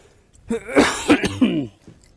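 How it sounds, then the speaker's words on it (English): A short burst of harsh coughing and throat clearing, close up, three or four rough hacks in quick succession. "got the whooping cough and everything"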